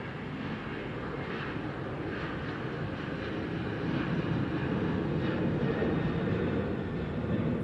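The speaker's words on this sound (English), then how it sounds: "We have an American Airlines 737." An American Airlines Boeing 737 jet takes off from Sky Harbor International Airport, a broad roaring engine rumble that holds steady and swells slightly louder midway, heard from a distance with no talk.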